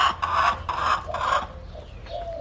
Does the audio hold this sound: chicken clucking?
yes